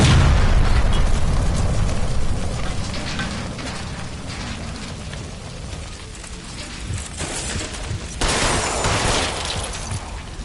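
A gas line blows up in the L.A. Noire video game, starting with a loud booming blast that fades into a crackling rumble, followed by a second burst near the end.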